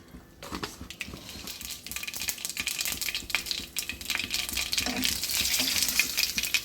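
Mustard seeds sputter and crackle in hot oil in a pan, a steady close sizzle broken by dense irregular pops that grow busier toward the end, with no talking.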